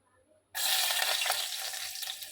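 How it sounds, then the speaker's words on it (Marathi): Garlic goes into hot oil, and after a brief quiet moment a loud, dense, steady sizzle bursts in and holds at close range. "तेल तापलेलं आहे तेलामध्ये आता आपल्याला घालायचं आहे लसूण"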